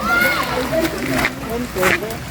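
Splashing and sloshing in a mountain river during rain, irregular water movement close by, heard beneath loud, continuous talking from people in the water.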